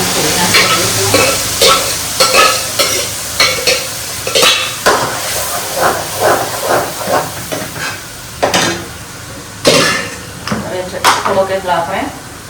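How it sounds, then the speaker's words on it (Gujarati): Tomato gravy poured into a frying pan and stirred in, with repeated scraping and clattering strokes over a steady sizzle, fairly loud and close throughout. "હવે આ જે ટમેટાની ગ્રેવી છે એ નાખી દઈશું."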